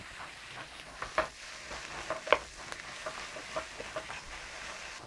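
Cabbage seasoned with salt and black pepper frying in a pan, with a low steady sizzle and a few sharp stirring clicks and scrapes scattered through it, nobody speaking.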